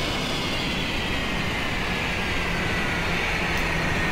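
A synthesized spaceship engine sound effect, a dense, continuous roaring rumble with a steady hum beneath it, loud and unchanging from start to finish with no voices.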